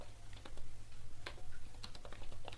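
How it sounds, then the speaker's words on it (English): Typing on a computer keyboard: a quick, uneven run of close key clicks over a low steady hum, with no voices. "Just click on the all, just type system"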